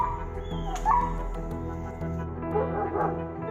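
A young dog in distress whimpers and yips softly during an animal rescue and protection case, brief thin cries over steady background noise with no talking.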